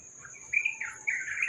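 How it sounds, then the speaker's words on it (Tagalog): Birds chirp and tweet in short bright bursts, growing busier toward the end, over a faint steady hiss of insects. "yung tunog ng ibon o"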